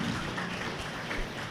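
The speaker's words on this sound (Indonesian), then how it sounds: "Oh, tepuk tangan." An audience at an Islamic religious talk claps in a brief, dense burst of uneven applause that fills the short moment at a steady moderate level.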